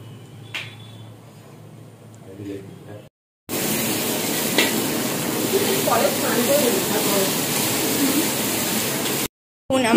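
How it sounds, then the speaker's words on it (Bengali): Meat spice mixture bubbles and sizzles in a pan at an outdoor picnic, a steady close hissing simmer with voices talking over it and brief breaks in the sound. "আমাদের মাংসের মশলা টকবক করে ফুটছে"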